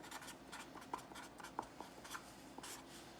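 Pen or pencil scratching across a sheet of paper while working out milling RPM calculations, a steady run of soft strokes with small taps, close and quiet with no talk.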